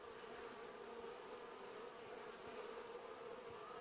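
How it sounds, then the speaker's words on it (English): Many bees hum in a steady, dense buzz close by, continuous and even throughout, with no voices. "I can see bees going in and out"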